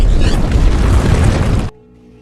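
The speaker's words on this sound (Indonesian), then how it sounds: "gerbong tersebut terjatuh lalu meledak dengan sangat dahsyatnya" A train car from a Star Wars film falls and explodes in a heavy, roaring blast that rumbles loudly, then cuts off abruptly to a faint musical tone.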